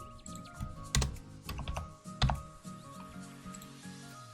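Typing on a computer keyboard during a MagicaVoxel digital art session, a few quick clustered keystrokes with two louder taps standing out, close and clear with no talking.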